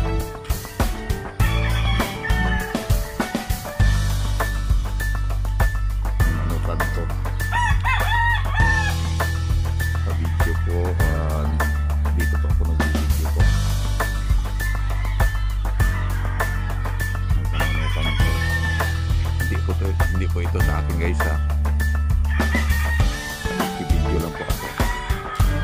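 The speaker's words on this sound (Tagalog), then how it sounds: "Mga manok panabong" Fighting roosters on a farm crow and cluck loudly and repeatedly, several birds calling over one another, with a strong steady low hum running underneath.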